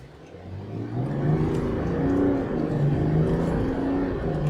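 A 2024 Chevrolet Silverado 1500 ZR2 Bison pickup truck accelerates hard, its engine note climbing and holding a steady, loud drone as it pulls through the gears, heard from inside with no talk.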